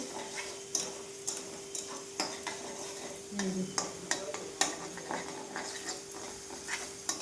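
Potatoes fry in a pan of oil with a soft, steady sizzle, while a spoon clicks and scrapes against the pan in irregular taps.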